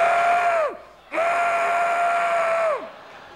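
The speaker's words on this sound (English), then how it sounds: "another very effective device for the class clown was closed-mouth screaming" A stifled, closed-mouth scream performed as a comedy-stage gag: two sustained, loud nasal wails, each holding a steady pitch before sliding down at the end, separated by a brief gap, with no talking.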